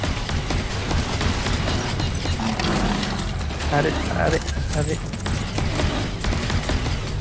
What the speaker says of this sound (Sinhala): ආ බෝම්බ දානවා දැන්